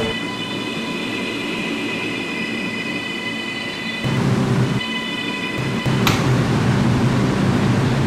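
An R211 M subway train in a Roblox game runs along the track with a steady rumble and motor whine, growing louder and rougher partway through, with a brief squeal near the end.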